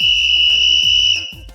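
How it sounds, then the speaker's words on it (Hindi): A shrill, steady whistle blast sounds loud and close, holding one high pitch for over a second before cutting off. "ये है सीटी।"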